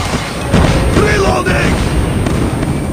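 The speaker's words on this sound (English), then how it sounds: "Enemy airstrike incoming." Enemy airstrike explosions in COD Mobile pound continuously through a dense, loud wash of battle noise, several heavy booms overlapping with gunfire-like cracks.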